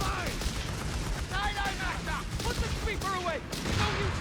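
A grenade assault in the game Company of Heroes 3, with a dense, continuous rattle of gunfire and blasts under overlapping shouted voices and wavering tones throughout.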